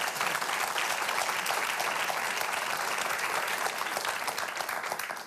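Studio audience at a late-night talk show interview with Spike Lee breaks into steady, sustained applause that fills the whole stretch evenly and fades slightly at the end.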